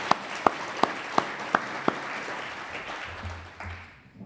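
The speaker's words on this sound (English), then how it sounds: "So let's give another big round of applause for this incredible progress." Audience applause at a clinic celebration event: a dense wash of clapping with a few sharp louder claps standing out early, fading toward the end as a low murmur remains.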